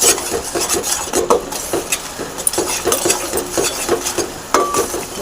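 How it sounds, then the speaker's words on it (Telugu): A spiced capsicum mixture is stirred in a pan with a utensil, giving repeated scraping and clinking strokes against the metal over a faint sizzle, close and steady. "ఇవన్నీ ఇట్లా వేసుకొని మంచిగా మిక్స్ చేసుకోవాలి."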